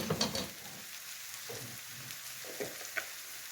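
Chopped vegetables hiss and crackle in a hot frying pan as they go back in with a little oil, a soft, steady sizzle with a few brief stir clatters, fairly quiet throughout.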